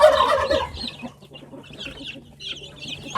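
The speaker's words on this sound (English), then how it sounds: "The turkeys are yelling at each other." Turkeys call out nearby, a loud burst of squawking followed by quieter scattered clucks and calls.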